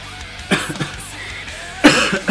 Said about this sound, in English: Sorry about the coughing there, guys.